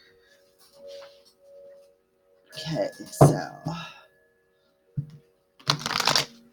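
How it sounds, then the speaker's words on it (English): Short bursts of tarot cards being shuffled and riffled, crisp flicking sounds in a few separate bouts, with a brief spoken word near the start. "So shuffle up these cards a bit."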